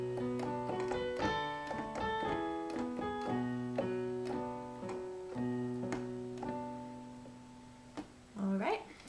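Piano plays an intermediate lesson passage with both hands, steady notes and sustained low bass tones, fairly quiet, ending with a brief rising slide of sound.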